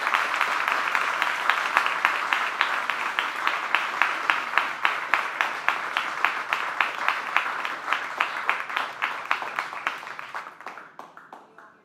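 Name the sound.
audience applause after a talk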